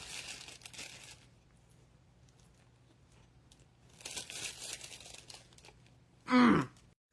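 Paper wrapping on a Taco Bell Crunchwrap crinkles and tears in two soft bursts, followed by a louder, sharp crunch near the end; close, quiet and without speech.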